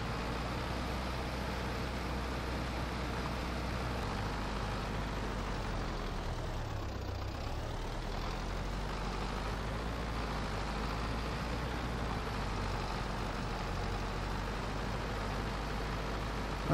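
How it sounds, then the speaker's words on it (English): A tractor engine in the video game Farming Simulator 22 drones steadily and low for the whole stretch, with a brief dip in tone midway, and no voices are heard. "Come on, little tractor."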